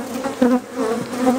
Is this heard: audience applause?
no